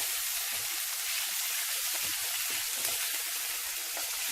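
One cut onion being sautéed in a pan until it changes colour, a dense continuous hiss of hot oil that stays steady and fairly loud throughout, with no voices.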